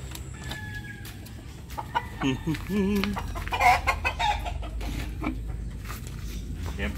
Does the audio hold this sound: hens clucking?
yes